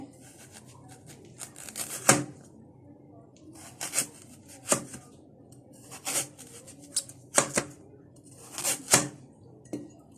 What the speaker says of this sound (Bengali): আর গাজরটাও কেটে নিচ্ছি সেমভাবে